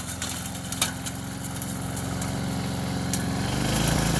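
A brush cutter engine runs steadily while clearing land out back, its small-engine drone building toward a louder rev near the end, close by and without any talk.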